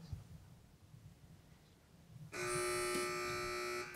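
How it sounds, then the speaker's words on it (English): Low murmuring, then a loud electronic quiz buzzer at a high school quiz match blares suddenly and holds a steady harsh tone for over a second before cutting off. "wait for the buzzer. Don't buzz in early."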